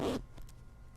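Zipper on a VKPO 2.0 Russian army summer field jacket with no tape on the puller, one quick close zip pull lasting under a quarter second, then near silence.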